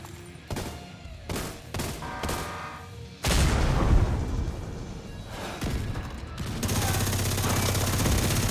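Mortar fire and gunshots in The Division 2: scattered thumping reports early on, then a sudden loud boom that gives way to a dense, roaring barrage of explosions and automatic fire.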